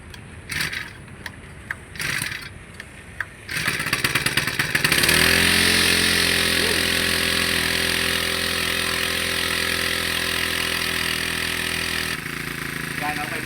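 Honda GX35 small four-stroke engine, left unused for three months: a few pull-start rattles, then it catches and runs at a loud, steady high idle before dropping slightly in pitch near the end, with a voice talking early on.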